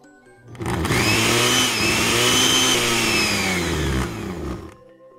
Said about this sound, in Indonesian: Blender tua itu menderu kencang, suara berisiknya memenuhi dapur.